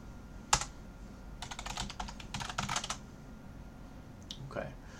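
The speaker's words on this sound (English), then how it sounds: "to install that, you type in the command at a command line" Fingers tap out a command on a computer keyboard, several bursts of quick clicking keystrokes close up, separated by brief pauses, with a single louder key press at the start.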